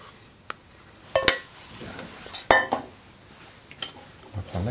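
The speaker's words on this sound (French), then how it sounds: "on va prendre la cuillère à soupe et on va donc se rapprocher du bord et tapoter" A tablespoon taps against a lemon meringue tart in a 22 cm ring to smooth the meringue: a few sharp, separate clinks and knocks, scattered and close, over a quiet kitchen background.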